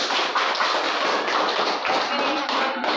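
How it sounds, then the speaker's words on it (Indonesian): A classroom group applauds together after a presentation, steady dense clapping filling the room from start to finish, loud and close. "Tepuk tangan."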